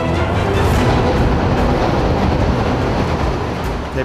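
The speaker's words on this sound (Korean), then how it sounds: "자, 열차 접근합니다." A loud, dense roar of a train rushing through a tunnel past a trackside refuge, steady and booming throughout with no voices.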